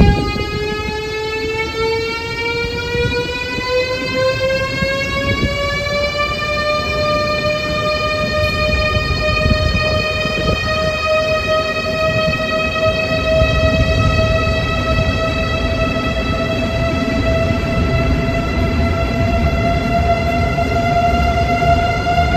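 Russian high-speed train on the Moscow to St Petersburg line pulling away, a loud rising electric whine that climbs in pitch and then holds steady over a constant rumbling roll, heard alone and close for the whole stretch.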